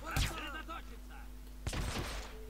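Two short bursts of gunfire in Hitman: Absolution, one near the start and one toward the end, with a voice speaking briefly between them.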